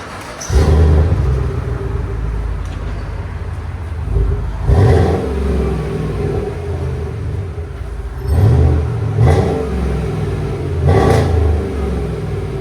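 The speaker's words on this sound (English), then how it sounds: "Here it is, Flowmaster 40, dual in, dual out." 2018 Chevy Silverado with 5.3L V8 and Flowmaster 40 Series dual in, dual out exhaust revving: a deep idle rumble broken by four sharp throttle blips that rise and fall back, loud and close.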